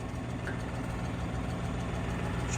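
A tractor engine idles in a low, steady rumble, continuous and moderately quiet throughout.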